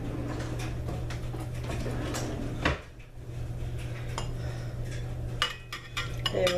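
A spatula and bowl handled while mixing blueberry muffin batter with butter, a run of light clinks and taps of utensils against dishes, with one louder knock midway and a low steady hum underneath.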